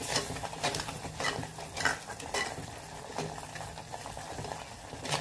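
A spoon stirs a spicy Kolhapuri misal curry mixture in a pan, scraping and sizzling in repeated strokes over a steady frying hiss, close up and with no voices.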